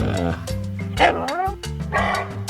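A dog barks in a few quick yips and bow-wows over cheerful children's background music.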